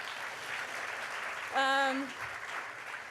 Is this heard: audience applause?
yes